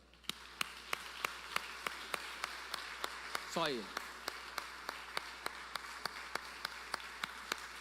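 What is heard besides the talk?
congregation applauding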